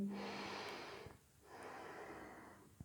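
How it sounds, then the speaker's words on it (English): Deep yoga breathing, one long faint airy inhale and exhale followed by another slow breath, close and quiet with no talk. "Keep breathing"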